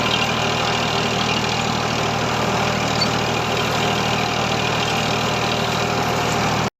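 Eicher 557 tractor engine running steadily at idle, a loud continuous low diesel rumble with a constant chugging texture throughout, no voices.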